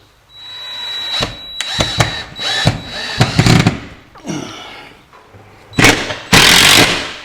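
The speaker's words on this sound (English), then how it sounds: "obviously I had to switch to the impact tool" An impact driver drives standard deck screws into a wooden stud while a grease gun holder is mounted, giving several loud, rattling hammering bursts of varying length separated by short pauses.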